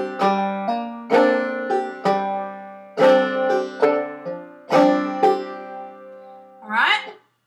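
Clawhammer banjo playing Cluck Old Hen with hammer-ons, bright plucked notes in clustered phrases of quick strikes and hammered follow-ups, close and clear, alone without talk.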